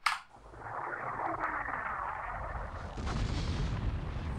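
A cruise missile strike in the strategy game Civilization II: Test of Time: a sharp opening crack, then a sustained roaring rumble that swells again toward the end, loud and without voices.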